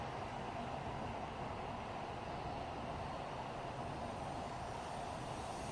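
A Japanese bullet train on the Osaka to Tokyo route gives a steady, even, broadband rumble and rush throughout, with no talk and no distinct events.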